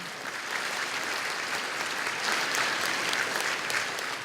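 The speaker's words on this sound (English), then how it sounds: "y'all can clap if you want to" Steady audience applause at a Lubbock school district hall of honor banquet, a continuous wash of clapping that swells slightly toward the end.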